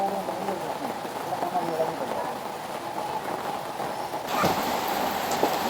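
Steady rain patters and hisses throughout, with a louder burst of rain or a splash near the end; voices are faintly mixed in.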